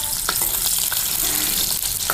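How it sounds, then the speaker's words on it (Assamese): Onion frying in a pan gives a dense, steady sizzle close by, with occasional light scrapes of stirring and no voices over it. "এই কবিৰ কাৰণে অকণমান পিঁয়াজ দিছোঁ একেবাৰে চিম্পুলকৈ ভাজিম মই পিঁয়াজ দিছোঁ"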